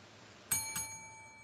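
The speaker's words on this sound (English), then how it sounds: "Is that the time for the bell? Yes, it is." A bell rings out to signal the time, two quick, bright metallic strikes with a ringing tone that hangs faintly, followed by a third strike just at the end.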